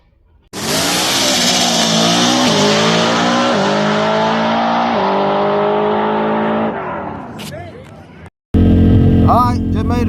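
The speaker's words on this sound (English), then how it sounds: "So about to go out and make our first test run." A drag race car with a 550 tune-up launches hard on its first test run, a loud, sustained engine roar climbing through several gear changes for about six seconds before fading, followed by a brief gap and then a close rumble.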